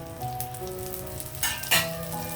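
Curry leaves crackle and sizzle in hot oil with garlic, cumin, mustard seeds and dried red chillies as a tempering for gongura dal, a steady close frying hiss with a sharp spitting burst near the end, no voices.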